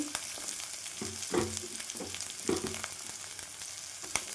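Ginger, garlic, green chili and coriander stems sauté in hot oil with onions for restaurant-style palak paneer, a steady close sizzle broken by a few scraping stirs.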